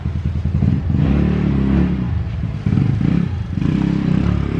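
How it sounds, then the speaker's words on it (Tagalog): A motorcycle engine runs close by with a steady, rough, throbbing idle and a slight rise partway through, loud and continuous throughout. "paalis mo natin yung motor. Maingay eh."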